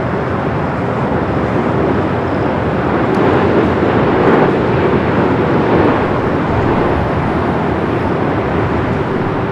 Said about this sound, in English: Lufthansa flight 456 coming in from Frankfurt, the 747-8 Intercontinental.